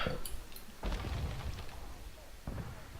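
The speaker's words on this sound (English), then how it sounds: "satchel charges going left and right" Satchel charges explode in a WWII video game battle, two heavy booms rolling out amid constant dense combat noise, with faint muffled voices underneath.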